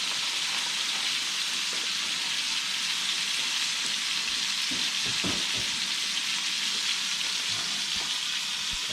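A prime ribeye sizzles in a hot pan, a steady dense hiss of frying fat that runs loud and unbroken throughout, with faint clinks and scrapes underneath and no talking.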